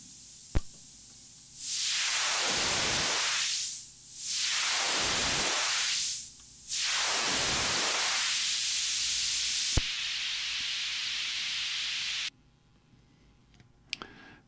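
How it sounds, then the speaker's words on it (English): White noise fed through an ETI 4600 synthesizer filter, a loud hissing tone whose filter sweeps down and back up three times, then a steady unfiltered hiss before dropping to quiet with a few clicks. "you could use white noise through the filters for effects"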